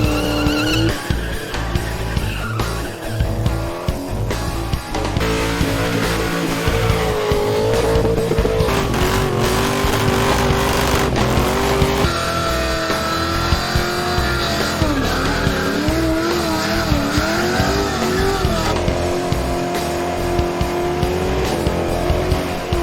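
Supercharged Holden VK Commodores doing burnouts on a skid pan: engines roaring and revving hard under continuous screeching tyre squeal that rises and falls in long waves, loud and close throughout.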